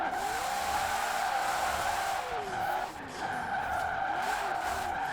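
Drift car in the Forza Horizon 4 video game, with a sustained, steady tire squeal and skid over a roaring engine. It runs loud and continuous for several seconds, dipping briefly once, with no speech over it.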